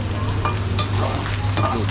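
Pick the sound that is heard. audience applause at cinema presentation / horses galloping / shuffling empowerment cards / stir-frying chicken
stir-frying chicken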